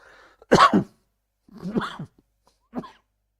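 Three harsh coughs from one person, close and loud, spaced about a second apart, the last one shorter and weaker.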